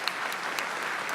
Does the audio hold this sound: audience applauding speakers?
yes